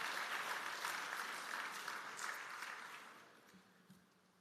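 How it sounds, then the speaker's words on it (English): Applause from delegates at a heads of government conference, a broad steady clapping that gradually fades toward the end, with no talk over it. "Yes, I would invite you to clap for that."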